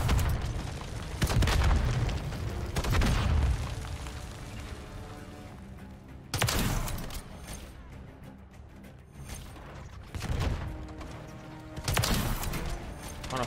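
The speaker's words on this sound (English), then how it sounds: "He's trying to nade me out of here." Grenade explosions in the Call of Duty MW3 multiplayer game, several heavy booms spaced a few seconds apart, each swelling loud and then fading, with game noise between them.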